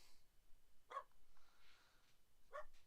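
A dog gives two short barks about one and a half seconds apart, quiet and somewhat distant, over a faint background hiss with no speech.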